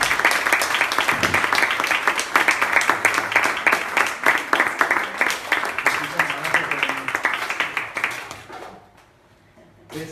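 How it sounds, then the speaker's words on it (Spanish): A lecture audience on gladiators in a library applauds steadily for about eight seconds, a dense clatter of many hands close by, with voices mixed in, before it fades to near silence and a voice returns at the very end. "Muy bien, un aplauso,"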